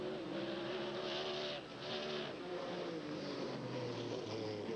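Trans-Am race cars at a 1990 SCCA race in Des Moines, Iowa brake into a left-hand turn, a steady engine drone with shifting pitch and faint whine, moderately distant and continuous, no voices.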